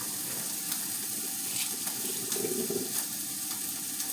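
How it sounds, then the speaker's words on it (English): Breakfast sausage sizzles steadily in a pan with butter, a constant broadband hiss with small crackling pops, heard close up and alone without talk. "my sausage is cooking"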